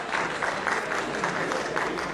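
Applause from an audience at a Hindi shayari poetry recital, a steady dense patter of clapping lasting a couple of seconds with no voices over it.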